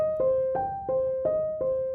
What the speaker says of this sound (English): without pedal it sounds like this